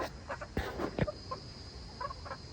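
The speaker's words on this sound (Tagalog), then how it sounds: "So pakita ko lang sa inyo yung mga alaga ko dito na mga manok." Farm chickens kept as poultry give a handful of short, separate clucks at moderate distance, with a faint steady background hiss behind them.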